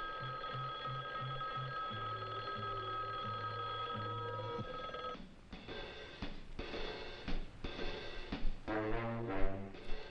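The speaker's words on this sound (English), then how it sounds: "It's a ventriloquist phone." A comedy ventriloquist telephone rings in a steady repeating pattern of bell trills, then breaks off into a few louder, irregular ringing bursts near the end, with no talking.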